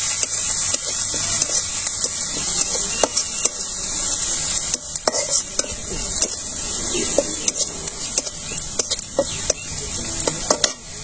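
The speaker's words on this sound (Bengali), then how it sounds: "হলুদের গুঁড়ো, মরিচের গুঁড়ো যার যার রুচির মতো জালটা খাওয়া, ধনের গুঁড়ো, মশলাটা ভালো করে কষে নিয়ে" Turmeric, chili and coriander powders fry and sizzle in a pan while being stirred, with steady hiss and frequent scraping clicks close up throughout.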